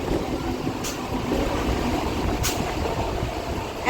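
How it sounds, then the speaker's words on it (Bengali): A steady low rumble of a moving train carriage, with two brief sharp rattling clicks breaking through the constant drone. "আজ অনেক দিন পরে ট্রেনে চেপেছি"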